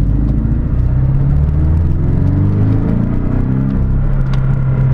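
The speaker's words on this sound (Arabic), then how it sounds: "الصوت ديالها زوين وحا 4 سيلندر" A Porsche 718 Boxster with a 300-horsepower four-cylinder engine drives along with a loud, steady rumbling drone and a shifting whir as the engine note rises and settles, heard close and continuous without talk.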